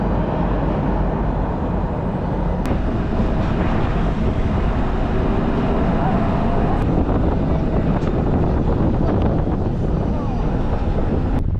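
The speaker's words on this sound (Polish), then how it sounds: "A teraz czekamy na którykolwiek tramwaj w stronę mostu łańcuchowego." Steady rumble and rattle of a moving tram in Budapest, with wind noise and a low constant drone throughout, no clear talk.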